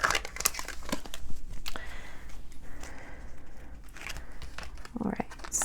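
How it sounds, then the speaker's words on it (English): Tarot cards being stacked up, with crisp crinkling and shuffling taps and card flicks in irregular bursts, close and fairly quiet. "So we got a lot of cards here. I'm just going to stack them up."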